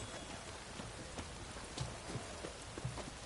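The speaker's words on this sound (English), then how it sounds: "Looks like rain." Steady rain pours in the Witcher 3 video game, a dense continuous hiss of drops with a few louder splashes scattered through it, heard alone at a moderate level.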